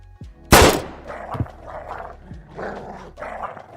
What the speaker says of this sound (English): Yes, that's a barking spider.